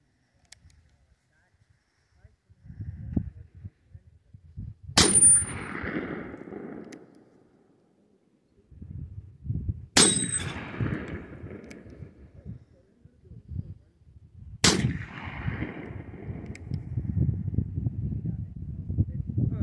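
Three loud, sharp .45 Colt shots from a Remington cartridge conversion revolver with a 5.5-inch barrel, fired outdoors several seconds apart, each with a short rumbling decay and low background noise between them.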